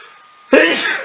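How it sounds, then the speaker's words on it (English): A single sharp sneeze bursts out near the mic about halfway through, after a quiet lead-in, with a breathy tail, in a leatherworking session dyeing a simple leather sheath. "I had a sneeze coming"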